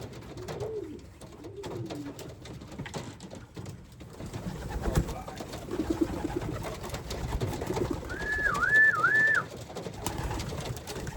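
Racing pigeons coo softly in short rolling phrases in a loft amid rustling and flapping, with a brighter bird call near the end.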